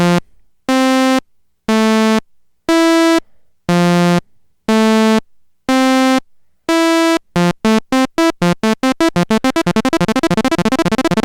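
UDO Super 6 synthesizer arpeggiator running in up mode at range 1, a loud bright buzzy tone stepping upward in evenly spaced notes, then speeding into a rapid, dense stream of pulses.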